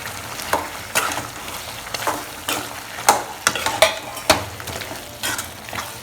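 Boiled, peeled potato chunks tumbled into village-style mutton varuval and stirred around a pan, giving a series of close scraping strokes over a low, steady sizzle.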